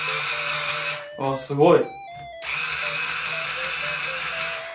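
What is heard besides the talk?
loosening guitar tuning pegs with a string winder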